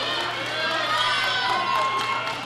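Spectators cheer and shout steadily at a junior men's 105 kg classic powerlifting world championship, a dense, loud roar sustained throughout.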